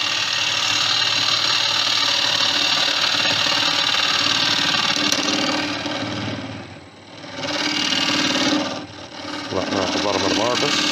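A modified skew chisel cutting a small wooden peanut bowl on a lathe, a continuous close scraping hiss of wood being shaved that dips briefly as the tool lifts off, with a voice speaking near the end.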